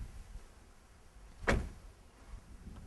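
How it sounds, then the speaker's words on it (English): Side latch just inside the soft top of a 2014 Jeep Wrangler flipping open, a single sharp click near the middle over a quiet low rumble. "You'll hear it flip click."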